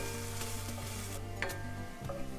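Onion sizzles in hot oil in a pot: a dense, continuous frying hiss with a low steady hum beneath, close and unbroken, with no talk.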